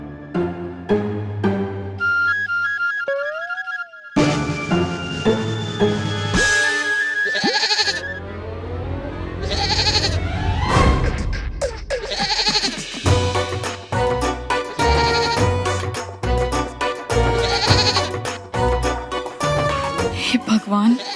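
A goat bleats in a Hindi TV drama scene, brief wavering calls mixed in with loud background music that runs throughout.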